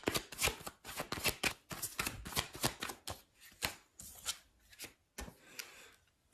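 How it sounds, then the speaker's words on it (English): Tarot cards being shuffled by hand, a quick run of crisp riffling and slapping strokes that come in uneven bursts, close and fairly quiet, with no talking. "Let's get another card here."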